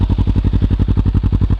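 A Kawasaki Ninja 300 fitted with a Yoshimura R-77 full exhaust idles close by, a loud, steady low throb with even, rapid pulses and no talk.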